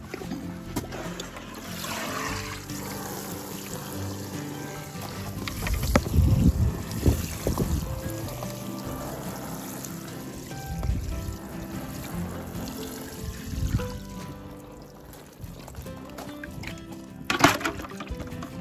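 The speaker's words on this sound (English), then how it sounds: "Time now for a good soaking of water." Water pours and splashes onto a freshly transplanted cabbage raised bed, an uneven rushing spatter that swells and fades in bursts, mixed with gusts of wind buffeting the microphone.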